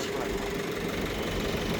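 A farm tractor engine runs steadily during haymaking, a continuous low idling rumble with a slight knock, close and unbroken for the whole stretch.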